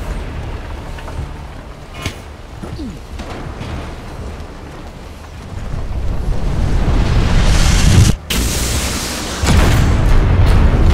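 Cannon fire booms out amid battle noise in the video game Gang of Sherwood, with rumbling blasts that swell louder in the second half and a brief sharp cutoff, and game voices mixed underneath.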